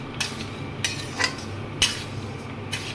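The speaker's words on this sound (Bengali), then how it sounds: "এটা একটু কড়াইতে নাড়িয়ে নিই হালকাভাবে" A spoon scrapes and clinks against a wok while rice and lentil khichuri is stirred, with several distinct metallic strokes over a soft background hiss, close and unaccompanied by talk.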